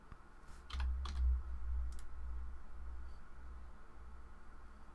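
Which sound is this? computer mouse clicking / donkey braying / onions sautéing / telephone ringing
computer mouse clicking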